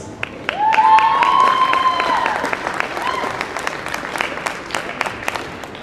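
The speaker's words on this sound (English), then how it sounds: "let's have a big round of applause for our 4 seniors of the Madison Central dance team" Audience applause for the high school dance team seniors fills a gym at a girls basketball game, sustained and fairly loud clapping and cheering from a crowd, with an announcer's voice over the top.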